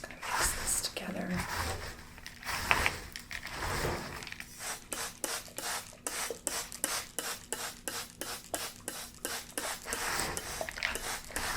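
Mud and soil are worked together by hand in a close ASMR setting, with steady rhythmic wet rubbing and rasping strokes that grow regular in the second half. Soft whispering is heard early on.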